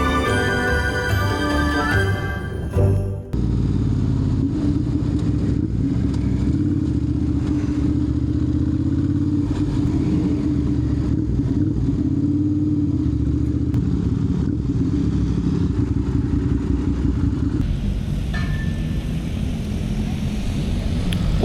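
Motorcycles of many styles and sizes ride past in a Dumfries charity toy run, a loud continuous rumble of engines with clatter and shifting revs, close by for the whole stretch.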